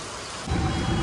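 Steady rain falls outdoors during a monsoon downpour with waterlogged ground, a dense continuous hiss that grows louder and heavier partway through, with no voices.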